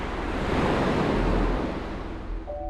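Ocean surf washes in a broad continuous roar, with waves breaking close by and wind buffeting the microphone, briefly and without talking.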